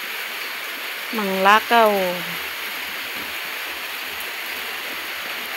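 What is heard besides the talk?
rainwater flowing into a canal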